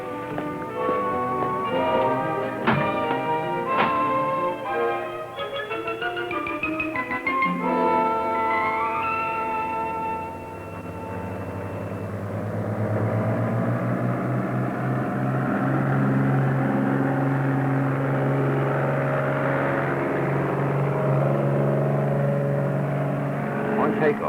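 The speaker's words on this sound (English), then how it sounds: "On takeoff, we began our climb at a best rate of climb speed." A small airplane's engine drones steadily through a night takeoff and climb, rising in pitch and power after a short lull. The tone stays loud and continuous with strong harmonic whine throughout.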